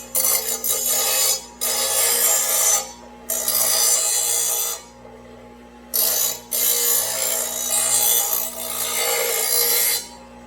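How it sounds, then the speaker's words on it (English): A bench grinder sharpens a Ryobi lawn mower blade in repeated passes, each a loud sustained rasping grind lasting one to two seconds and separated by short pauses, close up with no talking. "just go ahead and put it through the grinder a few more times until you get that perfectly sharp"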